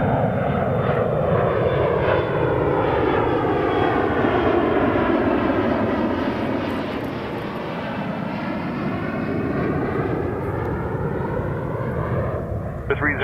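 A passenger jet lands at Toronto Pearson Airport, its engines roaring loud and steady throughout, with a broad whine that slowly shifts pitch as it passes close by.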